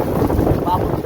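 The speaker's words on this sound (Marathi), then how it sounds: "आणि हवा पण खूप चालू आहे" Strong wind gusts during rain at an outdoor village fair, a close, steady roar buffeting the microphone for about a second.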